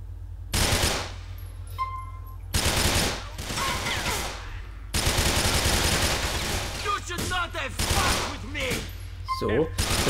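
Video game gunfire from Grand Theft Auto IV comes in several loud bursts of rapid automatic shots, split by short pauses. Thuds and game noise fill the gaps, and a voice speaks faintly in between.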